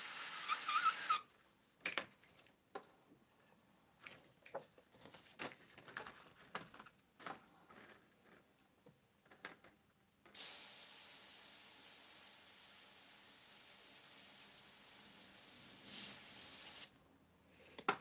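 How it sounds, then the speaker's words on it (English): Short bursts of spray paint hiss through a stencil, then a long steady loud spray hiss lasting several seconds before cutting off abruptly, with faint clatter between bursts. "Spray on the shield and then just go off of it a little bit."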